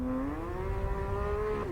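A BMW Z4 35i on a half-mile drag strip accelerates with a steady rising engine tone, holding one strong, steadily climbing pitch for a brief moment.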